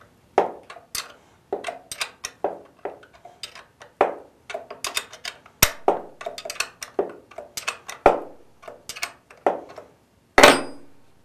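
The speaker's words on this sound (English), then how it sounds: "Use a 13 millimeter or half-inch wrench or socket to loosen and remove the bolt and bracket which fasten the vehicle speed sensor." A 13 mm or half-inch wrench or socket works loose the bolt on the speed sensor bracket of a Chrysler 46RE transmission, making crisp ratcheting clicks in irregular bursts with short pauses, close and clear, with no voices.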